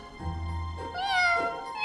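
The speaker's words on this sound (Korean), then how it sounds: "아기 고양이 울음소리였어?" Baby kittens give two short, high meows close by in an animated cartoon scene, the second meow rising and louder than the first.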